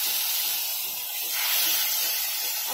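Chicken shallow frying in oil and butter in a kadhai, giving a steady close hiss that swells slightly partway through and runs on without break, no voices over it.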